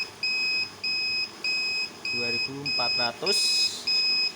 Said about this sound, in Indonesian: Dan alarm berbunyi menandakan overload di sini.